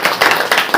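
A church congregation at a Hindi-language Saturday prayer meeting claps together in a dense, steady burst of rhythmic applause, loud and close, with no talk over it.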